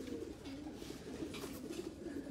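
A young racing pigeon hen coos softly in a loft, low murmuring calls repeating in a gentle rhythm, faint and close with no talking.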